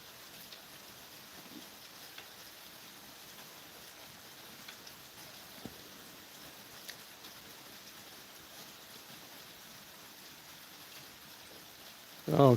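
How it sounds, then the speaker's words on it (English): Steady rain falls on surfaces outdoors, a continuous even hiss with scattered drop taps, ending in a brief louder knock. "Yeah, it's raining."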